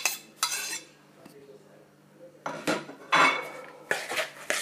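Chicken for Moroccan roast chicken being mixed by hand with herbs, onion and ginger in a dish, heard as bursts of clinking and scraping utensil contact against the dish, separated by quieter pauses.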